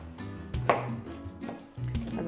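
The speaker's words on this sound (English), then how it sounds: "It's literally just chopping it up so it cooks evenly when we pop it into the pot" A knife chops leeks on a board for green goddess soup, several quick, irregular cuts, each a close, crisp thud.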